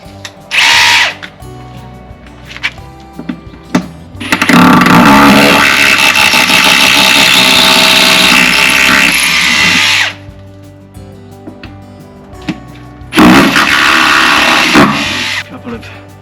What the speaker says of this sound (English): we're going to pop this SDS drill straight through the plywood into the stone